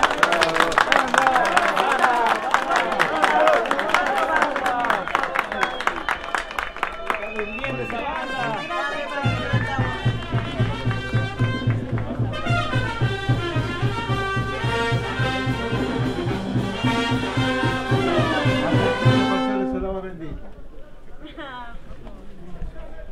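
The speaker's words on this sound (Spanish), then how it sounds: "un fuerte voto de aplauso a los entrantes." A crowd claps and cheers for newcomers at a church chapel festival in Vilcabamba, Pasco, loud dense applause filling the space while voices chatter and music plays underneath.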